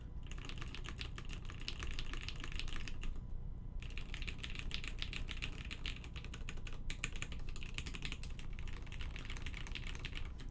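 Fast, continuous clacky typing on the Doppelgänger prototype mechanical keyboard, with close, crisp keystrokes in a dense rhythm broken by a couple of brief pauses, and no speech.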